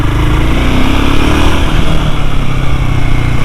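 Royal Enfield Himalayan 450, a 196 kg motorcycle, running steadily at speed on twisty roads, its engine drone loud and continuous throughout with heavy wind rush and no voices.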